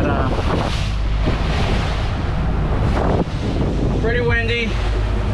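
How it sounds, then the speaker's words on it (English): Strong wind buffets the microphone over the steady wash and slap of choppy three-to-four-foot sea waves aboard a boat between Florida and the Bahamas, with a brief voice near the end. "pretty windy, about 3 to 4 foot waves coming up"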